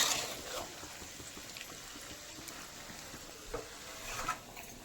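Meat for a cauliflower curry is slowly fried down in a karahi, a quiet, continuous sizzle broken by a few light spatula scrapes and a small knock near the end, no talking.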